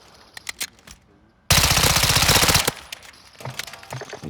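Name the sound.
gunfire from a weapon in Call of Duty, video game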